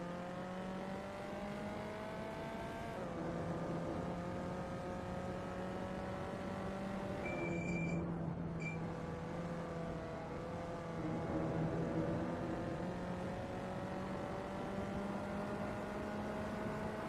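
A VW Up Cup race car on a flying lap holds a steady, buzzing engine drone whose pitch climbs and drops through gear changes, heard continuously at moderate distance with no talk.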